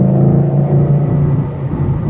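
A 2014 Ford Mustang GT 5.0 with the performance pack accelerates from about 40 mph in fourth gear, its V8 producing a loud, steady low rumble and droning engine hum heard from inside the car.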